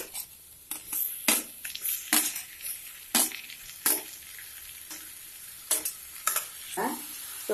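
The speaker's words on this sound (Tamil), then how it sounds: "ஸோ இந்த அளவுக்கு நல்லா ப்ரௌனாக வறுத்துருங்க." Onions and tomato fry and get stirred in a pan for a paneer butter masala gravy, with a soft continuous sizzle broken by repeated sharp scraping strokes of the spoon at an irregular rhythm.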